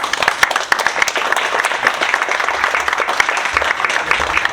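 Audience applause at an academic economics forum, a dense, steady patter of many hands clapping close by for about four seconds, with no talk over it.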